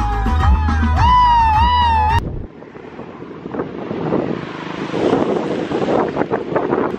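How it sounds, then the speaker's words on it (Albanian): Strong wind outdoors buffets the microphone in uneven gusts and roaring rushes that swell toward the end, following a brief stretch of loud tonal sound at the start. "jashtë frin shumë erë"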